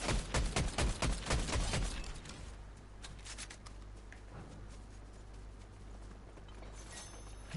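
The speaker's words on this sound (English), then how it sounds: "a couple more gunshots in the back." Rapid bursts of gunfire in a battle royale video game, with a loud cluster of close shots at the start, then a quieter stretch of sparse, more distant pops over a low steady hum.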